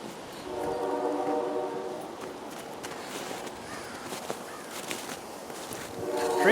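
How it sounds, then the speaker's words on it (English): A train sounds its horn in a snowy town the day after the 2015 blizzard, which left up to 30 inches of snow. A long, loud horn blast comes first, then a quiet stretch with footsteps, and a second blast begins at the end. "Trains are running."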